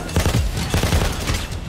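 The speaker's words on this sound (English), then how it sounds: "you're gonna use a grenade launcher, and you're gonna blow up that outline over there" Rapid explosive bursts from a grenade launcher in a shooter video game, loud and close, several blasts in quick succession with no pause between them.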